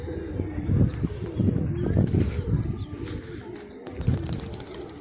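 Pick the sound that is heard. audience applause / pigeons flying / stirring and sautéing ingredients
pigeons flying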